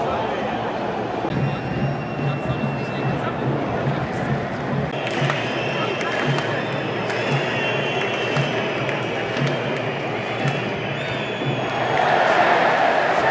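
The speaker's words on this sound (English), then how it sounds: "Biggest cheer of the game so far as Cole Palmer is ready to come on" Stadium crowd at the England vs Slovakia football match cheering loudly and steadily, a dense roar that swells near the end as a substitute prepares to come on.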